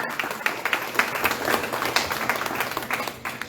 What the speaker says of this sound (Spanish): Denle un aplauso al Señor, mi hermano, mi hermana